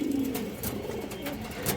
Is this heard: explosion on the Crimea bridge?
no